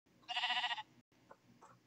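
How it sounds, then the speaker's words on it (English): A single sheep bleat from the Minecraft video game, a short nasal wavering call, followed by faint softer sounds. "Come on, there's sheep right here."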